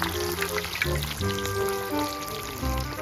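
Crispy pork belly frying in hot oil, a steady close crackling sizzle with popping bubbles running throughout.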